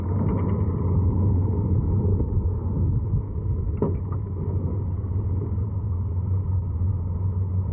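Ford Model A car driving up onto a balancing device outdoors, a steady low engine rumble throughout with a brief creak midway, heard alone without talking.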